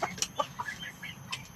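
Pet chickens cluck in short, soft, scattered calls near a backyard coop in Singapore. Several birds chatter over a quiet outdoor background.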